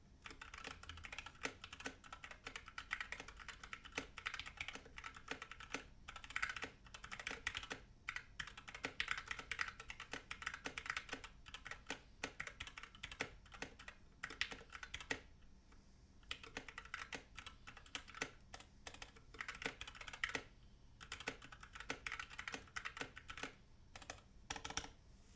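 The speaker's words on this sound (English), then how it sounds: "Just a typing test for you guys at home." Steady typing on a GH60 mechanical keyboard with Gateron black switches, a carbon fiber top plate and black PBT side-printed keycaps: a long run of rapid, even keystroke clacks, close and alone.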